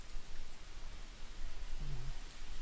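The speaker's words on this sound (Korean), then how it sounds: "오늘이 지금 비가 엄청 내리고 있습니다." Heavy rain pours outside an open door, a dense, even hiss of falling water that fills the whole stretch with no voices over it.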